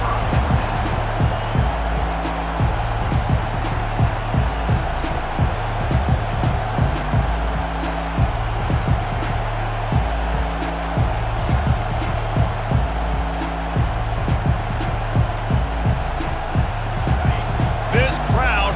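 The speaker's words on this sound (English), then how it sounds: "This crowd bringing an ear-splitting welcome to their visitors." Stadium crowd noise from the college football video game EA Sports College Football 25 roars continuously with a looping band chant, loud and steady throughout.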